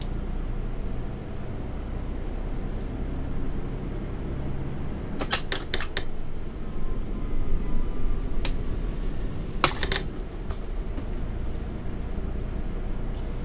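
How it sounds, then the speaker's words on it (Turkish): A steady, low mechanical rumble from a Setra S 516 HD bus in Euro Truck Simulator 2 as it brakes with its retarder, with a few sharp clicks partway through. "şöyle bir retardar sesi dinleyelim"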